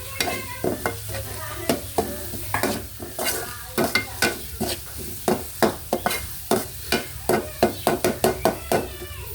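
Shallots and garlic frying in a pan while being stirred: a steady sizzle under quick, regular scraping strokes of a spoon that grow sharper and more rhythmic toward the end, close and alone.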